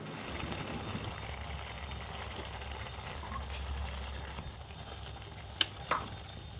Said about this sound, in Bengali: দেখুন, গরম জল দেওয়ার সাথে সাথেই ফুট ধরে এসেছে।